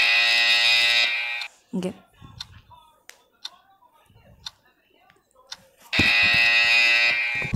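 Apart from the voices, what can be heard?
alarm sounding in a Squid Game video game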